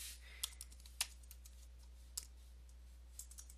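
Keys on a computer keyboard click in a quiet, dark room, a sparse scatter of separate taps with a few sharper strokes and no talking.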